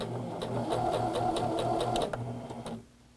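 A sewing machine stitches across the ends of the lips of a bound buttonhole, a steady rapid rhythmic whir of needle strokes that runs close and loud, then slows to a few clicks and stops.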